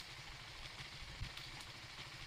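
A fuel-injected motorcycle engine idles on a trail with a low, uneven chugging putter, steady and fairly quiet.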